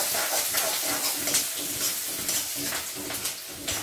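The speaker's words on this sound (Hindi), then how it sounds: "यहाँ पे अभी मैं कर रही हूँ थोड़ी सी प्याज फ्राई" Onions fry in a pan before cabbage goes in, giving a constant close sizzling crackle with bursts of hiss as they are stirred.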